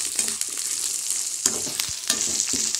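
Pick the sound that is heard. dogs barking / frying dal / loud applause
frying dal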